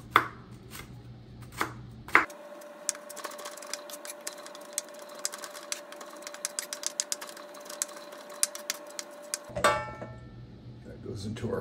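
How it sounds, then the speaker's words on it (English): A food processor minces raw shrimp in one continuous whirring burst of about seven seconds, with a steady motor tone and choppy rattling of the blade, while someone talks close by before and after it runs. "use a food processor. Again, we want to mince these up"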